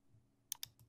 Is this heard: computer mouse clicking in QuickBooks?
yes